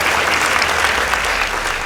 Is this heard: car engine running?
no